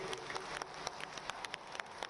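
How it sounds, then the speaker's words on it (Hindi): Audience applauding to welcome guests at the inauguration of a state guest house in Lucknow: a steady wash of many hands clapping, with sharper individual claps poking through, continuous and moderately distant. "तालियों से स्वागत कीजिए"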